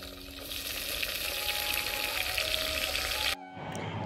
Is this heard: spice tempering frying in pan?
yes